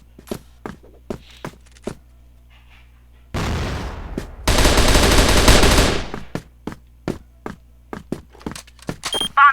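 Gunfire in the shooter game CrossFire, with a burst of rapid shots followed by a long sustained automatic spray, loud and close, among regular in-game footsteps before and after.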